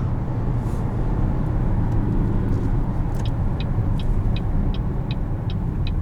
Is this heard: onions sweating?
no